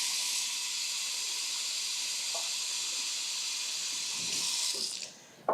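Water streams steadily into a cooking pot with a bright, continuous hissing pour held for several seconds, then slows and stops, with a brief clunk at the very end.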